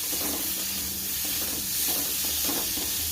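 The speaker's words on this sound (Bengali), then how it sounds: "জিরে আর শুকনো লঙ্কা ফোড়ন দিয়ে লবণ হলুদ দিয়ে ভেজে নিচ্ছি" Boiled potatoes frying in oil with cumin, dried chili, salt and turmeric, a dense continuous sizzle and hiss close up, with faint stirring movements underneath and no voices.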